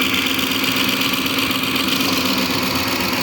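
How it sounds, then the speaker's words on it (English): A 2007 Ford Expedition engine idling steadily with a fine, fast fuel-injector ticking over a broad mechanical hum, heard close and continuous without any talk. "That's the fuel injectors, of course, is what you're hearing."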